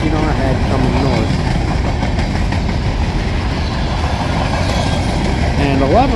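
A Norfolk Southern freight train, the 11R, rolls past close by with a loud, continuous rumble and rhythmic clatter of wheels over rail joints, while someone talks over it.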